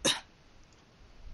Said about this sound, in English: I cough a little bit